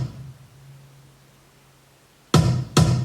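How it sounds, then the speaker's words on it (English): Two loud, punchy kick drum hits land about half a second apart after a near-silent stretch with a faint low hum, the kick shaped with EQ and effects for a heavy, aggressive drum sound. "And the kick sounds like this with effects."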